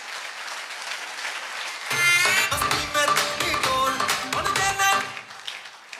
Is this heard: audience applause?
yes